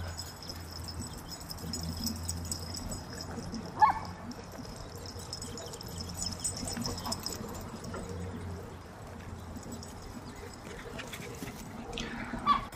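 Dogs bark and yip at a dog park in a Star Wars video game, scattered barks with a couple of louder yelps against a busy game ambience.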